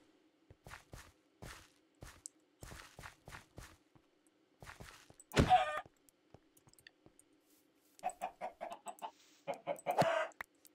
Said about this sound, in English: I see some chickens.